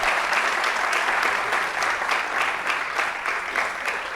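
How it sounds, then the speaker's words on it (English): Audience applause for a panel at an AI discussion event, steady and dense clapping from a large crowd sustained throughout without a break. "A big round of applause to the panelists,"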